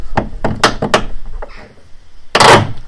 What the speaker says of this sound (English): Once you get it in there, you hear it pop.